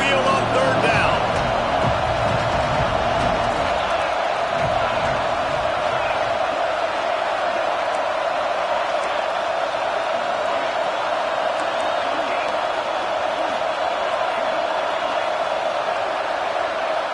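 A home crowd in a Texas A&M college football video game roars steadily as the defense tries to get off the field on third down, a loud continuous wash of cheering under a commentator's voice.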